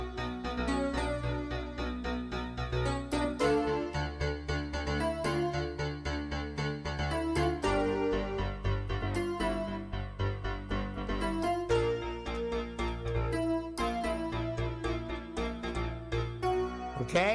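Solo piano playing a song with an added walk-up bass line, steady chords and melody running continuously at close range with no talking.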